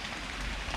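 Heavy rain pours down on a mushroom-foraging trip in the woods, a dense, unbroken roar of falling water heard alone.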